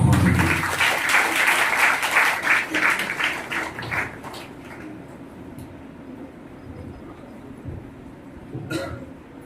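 Audience applause at a church silver jubilee worship festival, loud sustained clapping for about four seconds that fades away, followed by a quieter room with scattered noises and a brief burst near the end.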